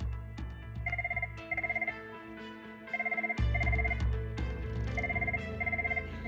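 Classic telephone bell rings in a simulated corporate office, sounding in repeated double bursts over a low background hum; no one speaks.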